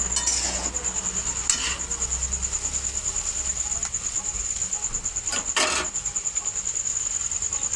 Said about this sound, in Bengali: ওগুলোকে আবার নাড়াবো। নাড়তে নাড়তে আবার যে চাউমিনটা রেখেছিলাম ওটাও দিয়ে দেবো।